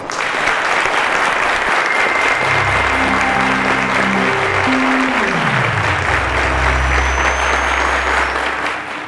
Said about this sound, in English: Ladies and gentlemen, a round of applause to Joel, Olayinka, and Osasere